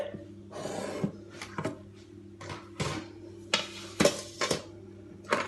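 Close clanks and metallic scrapes from a large muffin tin being picked up and set down, with intermittent rubbing and clinks spaced across a few seconds.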